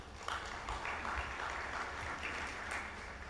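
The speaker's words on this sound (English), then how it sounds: "A big round of applause, please." Large conference audience applauding at a World Bank IDA mid-term review in Zanzibar, a steady, even wash of clapping heard from some distance and sustained throughout.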